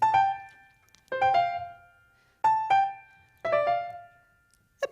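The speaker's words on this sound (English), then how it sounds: "our red-eyed vireo sounds like this" Recorded red-eyed vireo song: short whistled phrases of a few clear notes each, repeated about four times with brief pauses between, close and distinct over a faint low background, no voices.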